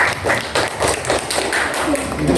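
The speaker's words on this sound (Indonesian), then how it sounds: "beri tepuk tangan untuk Rimansa" A junior high classroom breaks into applause for a student, a burst of rapid overlapping hand claps from many pupils lasting a couple of seconds.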